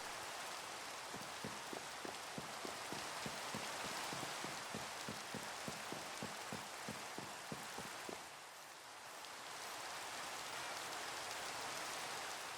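Steady rain falls in Minecraft, a dense continuous hiss of drops that briefly thins out partway through, under a regular series of soft low thuds.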